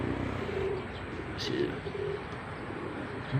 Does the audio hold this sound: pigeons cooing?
yes